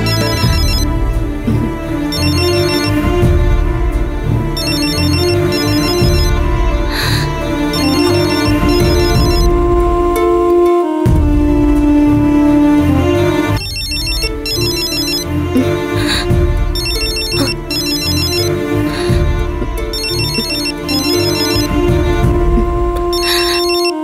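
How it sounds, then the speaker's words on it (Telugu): A telephone ringtone plays loud and continuous as a repeating melodic ring, filling the whole stretch with a brief break near the middle. "ఫోన్ వచ్చిందమ్మా. ఎవరు చేశారో చూడు."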